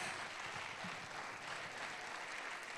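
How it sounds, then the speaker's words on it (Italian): Steady applause from an audience honoring a performer and a group of young people, a dense continuous wash of clapping that stays loud and even throughout, with no voices over it. "Grande applauso."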